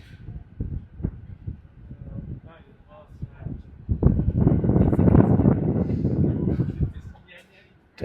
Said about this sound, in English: there's a very cold wind blowing right at us